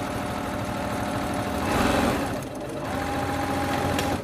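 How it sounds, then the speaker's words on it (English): A sewing machine stitches a child's fabric face mask with a fast, steady mechanical chatter. The sound swells briefly partway through, pauses, then resumes at an even pace. No voices are heard. "So just make sure you back stitch at the beginning and the end."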